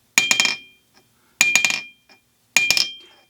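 Estwing ball peen hammer dropped onto a 15-pound Harbor Freight anvil three times, each drop a loud ringing metallic strike with quick rebound clinks that ring out briefly, followed by silence before the next.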